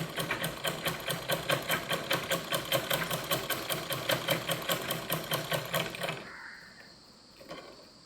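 A sewing machine stitching small doll clothes runs in a fast, even rhythmic chatter of needle strokes for about six seconds, then stops, leaving a quiet click or two.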